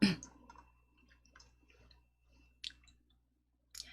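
A few sharp, quiet mouse clicks are spaced out over near silence while a gradient fill is being set in PowerPoint.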